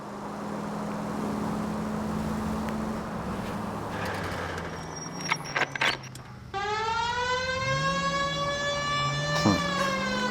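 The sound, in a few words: police car siren in the video game L.A. Noire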